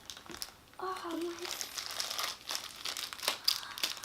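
Plastic toy packaging for Num Noms being torn open, with steady close crinkling and rustling of the wrapper throughout while someone talks over it.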